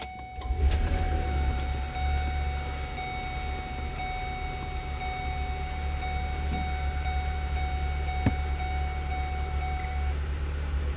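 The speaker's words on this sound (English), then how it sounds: "We're gonna start the vehicle." A 2009 Ford Escape engine cranks and catches, then settles into a steady low idle hum with faint ticking from the cabin, heard up close from inside the vehicle without talking.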